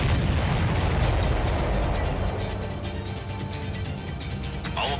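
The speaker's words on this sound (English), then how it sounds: "Missile launched. Missile hit." Missile explosions in the flight combat game Ace Combat 7, a heavy rumbling boom that fades into a sustained roar, loud and close, with faint game sounds trailing off.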